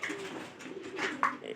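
A Pairi pigeon coos softly indoors, a few low, rolling throaty calls rising and falling over a quiet background, with one brief sharper note near the end.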